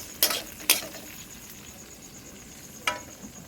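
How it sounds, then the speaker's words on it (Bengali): Long beans frying in a hot pan give a soft, steady low sizzle, broken by three sharp crackling spits, two close together and then one a few seconds later, with no talking. "এটা আমি বরবটিগুলো আমি ঢেলে নেব, ভালোভাবে লাল লাল করে ভেজে নেব।"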